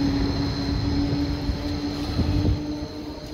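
A diesel commuter train runs along a line in Switzerland, heard from on board as a steady, loud low rumble and drone with a faint whine, with no one talking.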